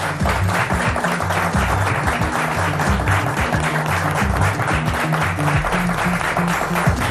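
Studio audience applause on a Senegalese quiz show, a loud, dense, even wash of clapping lasting several seconds with music running beneath it.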